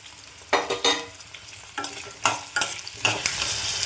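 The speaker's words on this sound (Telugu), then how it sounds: "ఉల్లిపాయలు ఇలా కొంచెం మెత్తబడిన తర్వాత టమాటాలు వేసుకోవాలండి." Small onions and tomatoes frying in oil crackle under repeated stirring, with several loud spatula scrapes in uneven bursts over a continuous close sizzle.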